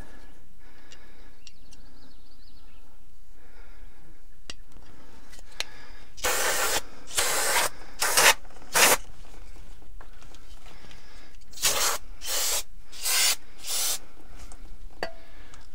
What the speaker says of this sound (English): So we just give them a spray like that.